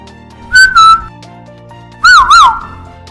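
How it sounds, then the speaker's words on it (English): A whistle blown by mouth gives two pairs of short, shrill, warbling blasts: one pair early and a second, louder pair after a pause, against a quiet background with no speech. "And this is the sound of whistle."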